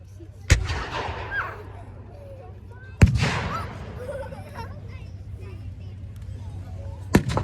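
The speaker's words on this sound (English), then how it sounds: "As the heavy artillery lands into the farm" Heavy artillery fires at a WW2 re-enactment on a farm field: three sharp, loud booms spaced a few seconds apart, each rolling off into a decaying rumble over outdoor background noise.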